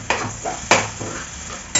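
Onions with chili powder frying in a pan are stirred, giving a few quick scraping strokes of a spoon against metal over a soft, close sizzle.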